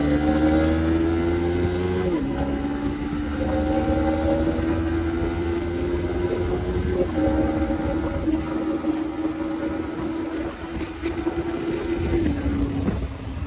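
A Yamaha MT15 155cc motorcycle ridden hard on a road, its engine revving high and climbing steadily through several gear changes with brief dips between shifts, loud and close with wind rush.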